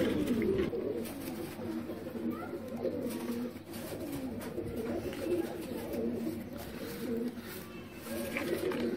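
Soft, steady cooing of pigeons fills the scene, low throaty calls repeating over a faint background hum.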